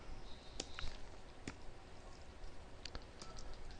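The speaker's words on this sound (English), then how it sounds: "let me go ahead and finish typing here real quick" Computer keyboard keys are tapped in short, sparse bursts of faint clicks, a few sharp presses standing out against a quiet room hum.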